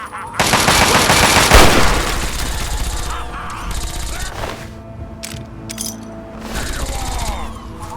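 Rapid gunfire in the Fallout 3 video game, with a loud sustained burst of automatic shots up front, then scattered cracks and bursts over background game sounds, and voices come in now and then.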